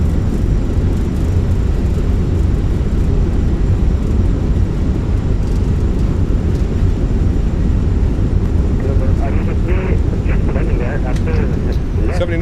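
Fenix A319 in a flight simulator rolling out after landing with thrust reversers deployed, a loud steady broadband roar that continues throughout, with a brief voice near the end.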